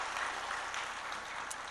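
A church congregation claps warmly after a blessing prayer at a Sunday worship service, a soft, steady patter of many hands heard at a distance and at low volume.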